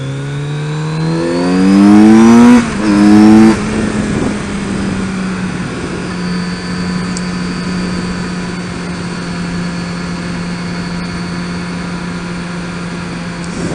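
A Kawasaki Z900RS motorcycle engine blips through two loud rising revs, then drops back and settles into a steady, low idle for the rest of the stretch, heard close with no talking.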